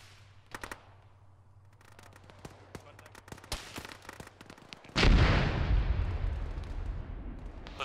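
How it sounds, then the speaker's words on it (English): Video game artillery strike: scattered sharp distant shots crackle before a heavy impact lands with a loud rumbling boom that slowly fades, with faint voices in the background. "you have artillery coming in northeast of your position"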